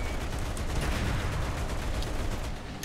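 Tank gun firing on the move in a war video game, a dense rumbling battle din with repeated sharp blasts and crackling impacts, loud and continuous, easing slightly at the end.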